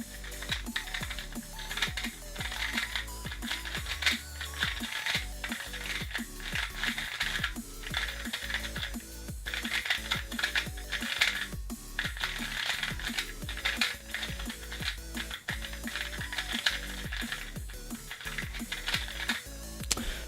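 A new 2x2 speedcube in primary plastic is turned rapidly and continuously, making a dense, even stream of small plastic clicks and clacks, close and steady, with no talking.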